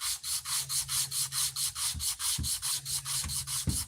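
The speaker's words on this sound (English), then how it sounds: "see me hand sanding scales" Rhythmic rasping strokes of hand sanding knife handle scales, steady back-and-forth about three per second, close and loud, with a low hum underneath.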